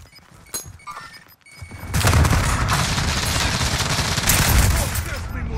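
MP7 submachine gun firing in a first-person shooter video game, a dense continuous burst of rapid loud shots starting about two seconds in and lasting to the end, after quieter game noise and faint voices.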